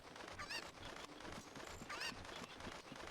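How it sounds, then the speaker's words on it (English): Cucco chickens in Zelda Ocarina of Time clucking and squawking, two sharp cries standing out over a dense, busy bed of game sound, faint overall. "Good old cuckoos. Gotta love the cuckoos."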